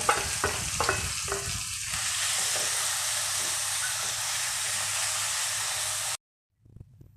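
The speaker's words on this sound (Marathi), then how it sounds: "कांदा टाकून घ्यायचा कांदा चांगला परतून घ्यायचा" Chopped onion sizzling and frying in a pan after garlic, a steady loud hiss with a few stirring scrapes near the start, then cut off abruptly before a brief faint return.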